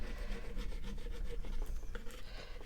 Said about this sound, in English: Make sure you rub it enough.